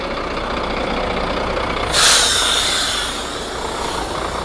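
A worn, rough yard shunter truck idles with a steady engine drone, then a sharp hiss of released air bursts out midway and fades back into the running engine.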